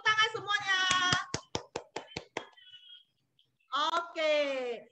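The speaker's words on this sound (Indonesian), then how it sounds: "Tepuk tangan semuanya" About seven quick, sharp hand claps in a short burst come through a Zoom call for quiz winners at a Sunday school service, with voices talking just before and after.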